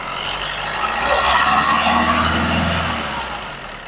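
A car's engine revs steadily at a used-car shop, a loud sustained roar that swells and eases over a few seconds with no pauses.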